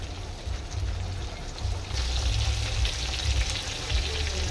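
Bombil (Bombay duck) fish pakoras fry in a pan of oil, giving a steady close crackling sizzle that swells slightly louder after a couple of seconds, with no voices.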